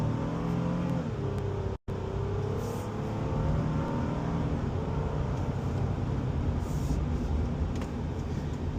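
A 2026 Honda Passport Trailsport Elite SUV accelerates hard from a standstill toward 60 mph, its engine drone climbing steadily and loudly from inside the cabin, with a brief dropout early on and no talking.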